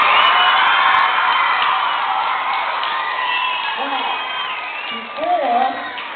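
A school crowd at a walk-a-thon event cheers and shouts, with children's voices whooping loudly over scattered clapping, the noise near and sustained and swelling briefly toward the end.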